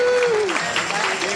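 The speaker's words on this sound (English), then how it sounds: "Let's give her a round of applause." Audience applause for a performing singer at a live show, dense clapping heard alongside a sustained tonal sound and voice, fairly loud and steady for a brief moment.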